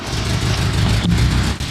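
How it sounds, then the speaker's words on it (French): An old carbureted Mercedes engine starts and roars loudly and steadily up close in a garage, a dense rumbling run with a brief dip near the end. "On a démarré la Mercedes."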